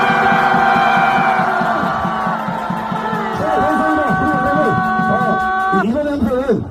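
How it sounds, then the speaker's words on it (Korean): A large outdoor crowd at a political rally outside a detention center roars a sustained cheer for several seconds, a dense wall of many voices shouting and whooping together, loud and close. "신우식 대통령님께 함성 발사!"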